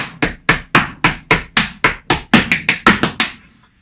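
Tap dance steps on a hard floor: a quick run of about fourteen sharp, crisp clicks and heel strikes in a syncopated rhythm, close and loud, ending in a short decay.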